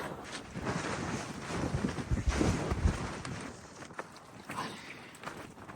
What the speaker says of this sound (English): Super breezy from the windmill.